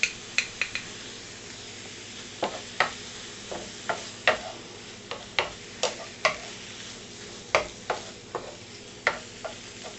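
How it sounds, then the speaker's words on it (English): Steak searing in an oiled pan, with a steady low sizzle and repeated sharp clicks and scrapes of a utensil against the pan, no voices. "So you want to get a nice sear on the steak"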